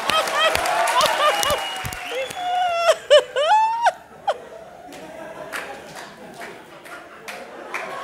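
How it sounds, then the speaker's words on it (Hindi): A studio audience at a televised comedy show breaks into laughter and whooping voices with scattered clapping, then settles into a quieter ripple of applause. "जोर से तालियां मेरे विपुल शाह के लिए"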